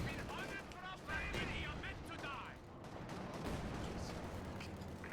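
Light machine guns firing in the World War II strategy game Company of Heroes 2, delivering dense rattling bursts with heavy booming impacts, steady and loud throughout, with a voice talking over parts of it.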